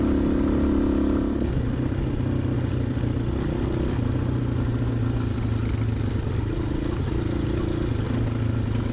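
Honda XLR125R single-cylinder motorcycle engine pulling steadily on a rocky trail, a continuous loud low throb with a brief rev change near the start, close and unbroken throughout.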